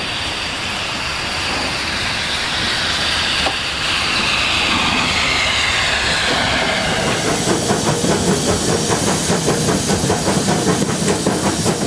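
Steam locomotive at a depot hissing and chuffing steadily, with broadband steam noise that gives way in the second half to a rhythmic rolling clatter of wheels on rail, loud and close, no talk.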